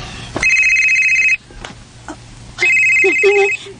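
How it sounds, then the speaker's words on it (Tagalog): A cellphone rings with an incoming call, two loud bursts of a bright electronic ringtone separated by a short gap, close and clear. "Bimbo, si Bimbo ninawag."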